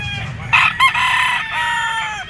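An F1 White Kelso gamefowl rooster crows once, loud and close, in a drawn-out call with a short break, over a low background hum.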